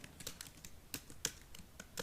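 Fast typing on a computer keyboard: a run of quick, crisp key clicks in an uneven rhythm, with a sharper tap now and then, close and fairly quiet with no talking.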